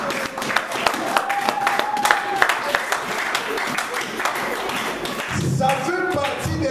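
Church congregation clapping and cheering in worship, a dense run of hand claps with scattered louder claps and shouts, and a voice speaking over the applause.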